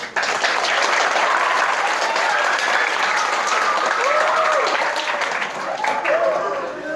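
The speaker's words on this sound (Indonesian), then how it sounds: "berikan tepuk tangan antum untuk Nusantara" Loud, close applause from middle school students at an Islamic school motivation session in Bogor, thick and continuous with scattered cheering voices rising above the clapping.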